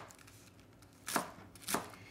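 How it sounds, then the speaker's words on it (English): A knife slices romaine lettuce into thin strips on a cutting board for a Greek salad, with two crisp, close chops about half a second apart against a quiet kitchen background. "We've got roughly 2 cups of romaine lettuce that we're going to be chopping up."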